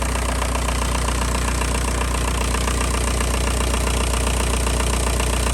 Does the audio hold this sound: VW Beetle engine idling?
yes